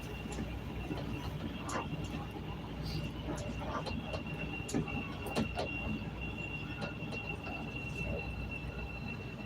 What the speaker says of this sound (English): This is a red line train to 95th.